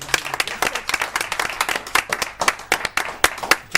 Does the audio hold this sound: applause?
yes